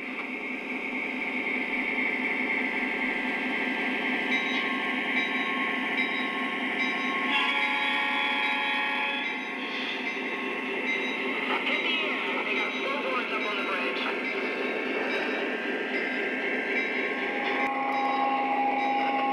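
A train starts rolling, its engine giving a steady, droning hum that shifts in pitch as it pulls away. Voices are heard talking over the sound.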